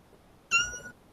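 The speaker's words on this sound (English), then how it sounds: "Yes, you missed her meowing" A kitten gives a single clear, high meow lasting under half a second, close to the listener in a quiet room.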